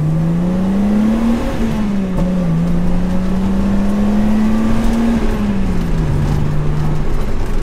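A stock-engine Datsun Fairlady Z 280Z drives with a steady, loud engine drone that rises and falls gently in pitch through light throttle changes, heard alone without talk.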